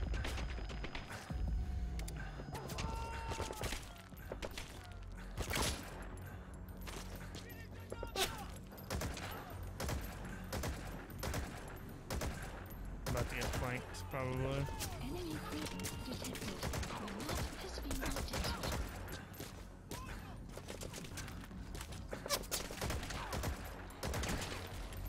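Sniper and other gunfire in the stealth-action game Metal Gear Solid 5: The Phantom Pain, sharp shots and bursts scattered through a busy, continuous game soundscape with no talk.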